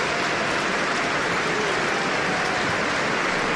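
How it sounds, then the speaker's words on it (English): Warm applause from a football crowd at Pittodrie stadium, Aberdeen, during a testimonial match against Manchester United; a dense, steady wash of clapping fills the whole stretch without a break. "Warm applause around Pitodrias."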